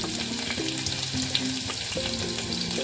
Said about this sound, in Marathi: 2 चमचे गरम तेलात आपण आता घालणार आहे कांदा, मिरची